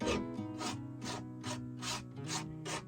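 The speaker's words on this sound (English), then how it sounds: "So I'm going to scrape out some of this paint in here" Oil paint is scraped off a painting in quick, repeated rasping strokes, about seven evenly spaced scrapes. Faint and close, with no talking.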